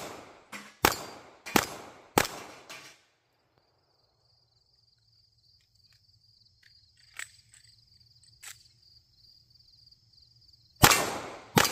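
Ruger Security 380 pistol firing at a range: about five sharp, loud shots in quick succession, then a quiet stretch with faint insect chirping, and one more loud shot at the end.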